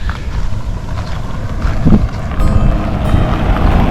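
Strong wind near a train buffets the microphone in a steady, roaring rumble, with a broad noisy hiss throughout and no voices.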